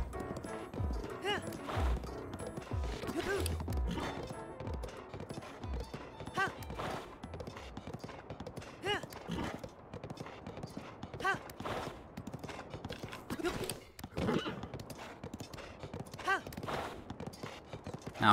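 A horse gallops in Zelda: Breath of the Wild, its rapid hoofbeats drumming on steadily under game effects, with a few sharp impact sounds and someone talking over much of it.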